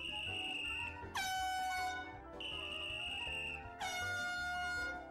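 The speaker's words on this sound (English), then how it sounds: "I don't like his whistle or his air horn." Loud truck-style air horn blasts in two long repeated bursts with a bright harmonic tone, filling the clip without any talk.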